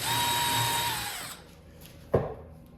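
A power drill bores holes freehand or with a drilling guide through back templates for drawer boxes built for Blum Movento undermount slides; a steady close whine runs for over a second, then stops, followed by a short sharp knock.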